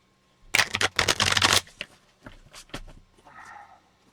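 Playing cards shuffled at a tabletop for an APBA soccer board game: a close riffling burst, then a few softer separate flicks and taps as the deck is squared, in a quiet room.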